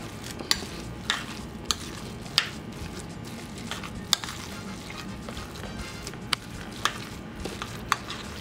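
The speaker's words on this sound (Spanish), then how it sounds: "Aquí estamos mezclando bien la mantequilla y el queso crema." Butter and cream cheese being mixed in a bowl for stuffed potatoes, heard as quiet, irregular scraping and soft clicks of a utensil against the bowl, close by and alone.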